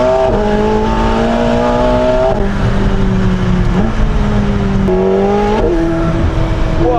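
A fast car accelerating hard with its wheels spinning, giving a loud, close engine roar that climbs in pitch through several gear changes, with a harsh whine over a continuous deep rumble.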